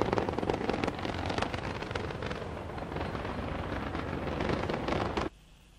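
Space Shuttle Endeavour's rocket engines roar during launch, a loud continuous crackling rumble that cuts off suddenly near the end.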